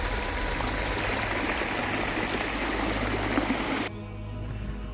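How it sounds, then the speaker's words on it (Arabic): Abundant mountain waterfalls rush down from the hilltop after recent rain near a village, producing a loud, continuous roar of water that stops abruptly near the end, leaving a quieter background. "صراحة شلالات مياه بكثرة ولله الحمد."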